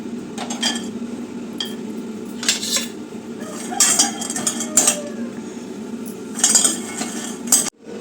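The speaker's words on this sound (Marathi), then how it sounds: "छान असे शेंगदाणे भाजून घेते" Peanuts roasting in a new wok that runs on gas or induction, stirred with a utensil: steady scraping and rustling with repeated metallic clinks and taps against the pan, close and fairly loud, with no talk.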